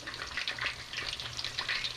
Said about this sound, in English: You're going to want to be somewhat careful when you're manipulating the chicken in the boiling oil, obviously.